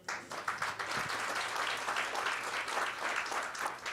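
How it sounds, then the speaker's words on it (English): Audience clapping at a corporate identity launch event, a dense, steady wash of many hands at moderate volume, rising quickly at the start and holding evenly throughout. "I think we must continue to clap for that"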